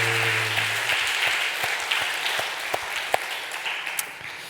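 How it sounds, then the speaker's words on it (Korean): A church congregation claps during a Sunday worship service, a moderate, fairly even patter of many hands with a few sharper individual claps standing out, fading slightly toward the end. "박수."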